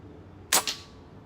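A single sharp crack from an air rifle firing a .22 pellet, with a quick second snap just after, close and loud against a quiet background.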